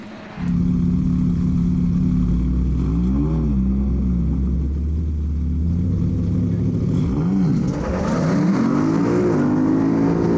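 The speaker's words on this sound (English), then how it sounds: "The Cosworth bogs it down. That thing is very hard to launch, and the Mustang now is just gone." Supercharged V8 Ford Mustang launching hard on a street-car drag run, a loud sustained engine roar with rising and shifting pitch sweeps as it accelerates away, close and continuous for the whole stretch.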